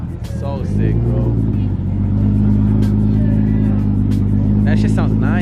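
Custom car with a big rear wing fired up at the SEMA 2022 show, its engine catching then settling into a loud, steady idle with a brief rev, close by while people chat excitedly.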